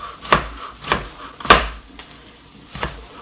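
A knife chops through hot cooked chicken on a wooden board for a salad, sharp separate thunks landing about every half second in an uneven rhythm, close and clear with no speech.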